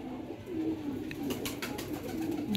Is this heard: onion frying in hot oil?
no